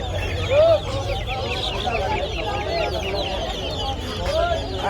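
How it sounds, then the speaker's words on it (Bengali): Several ornamental chickens clucking close by in short, repeated calls over a busy, noisy background at a bird market. "এখানে বেশ কিছু মুরগি আছে।"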